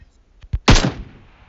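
Gunfire in PUBG Mobile: two short, sharp shots followed by a loud, close blast that rings out and decays over about a second.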